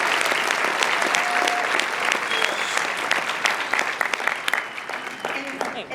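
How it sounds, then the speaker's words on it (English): Audience applause at a school winter choral concert, a sustained wash of many hands clapping in a hall, steady and loud throughout with faint crowd noise. "So, round of applause for them"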